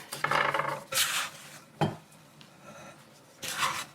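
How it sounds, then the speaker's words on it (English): A spatula scrapes loose shortcake dough out of a bowl onto a kitchen counter in a few separate strokes, close scrapes and knocks against the bowl with quiet pauses between. "Scraping it out of the bowl a little bit."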